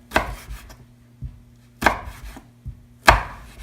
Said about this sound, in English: I'll just cut this last piece by hand really fast